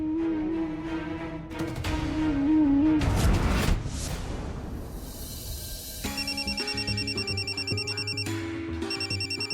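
A telephone rings in a domestic TV drama scene, its tonal electronic ring repeating steadily through the clip amid a musical background, loud and close with no talking.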